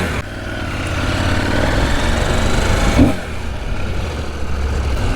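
A CFMoto adventure motorcycle, built on KTM 790 underpinnings, ridden around a property: a loud, steady engine drone with a brief surge partway through and no talk.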